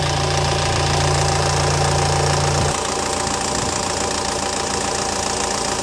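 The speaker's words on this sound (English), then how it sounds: "But the engine sounds just fine." A SsangYong Kyron engine idles steadily nearby with a low, even rumble despite a slight oil leak; a deeper hum drops away partway through while the idle carries on.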